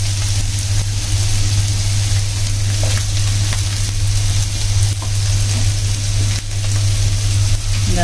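Carrots stir-fried in a pan with ginger-garlic paste for a chicken vegetable soup give a steady, loud, continuous sizzle with faint scraping, no voices.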